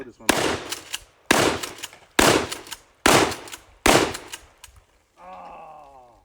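Five loud, close blasts from a Mossberg shotgun fired at a vacuum cleaner at an outdoor range, spaced about a second apart with sharp echoing decays, followed by a brief groaning vocal sound.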